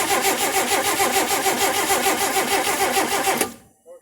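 The engine of a 1958 AMC Rambler Super cranks over with a steady rhythmic chug from the starter, loud and close, for about three and a half seconds. It then stops abruptly without catching, leaving near silence.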